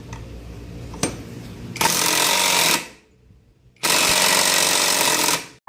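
Impact wrench hammering loose a bolt on a Yamaha Nmax V2 scooter during CKP sensor replacement, two long loud rattling bursts of about a second and a half each with a short quiet gap, plus a brief click before.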